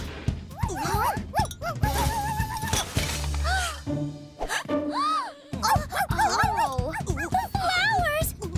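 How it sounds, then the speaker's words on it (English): A cartoon dog whimpers, yips and barks in high, rising and falling bursts, close and lively, mixed in among animated characters talking. "Something must be really wrong with Pom Pom. Dogs don't usually act like that for no reason."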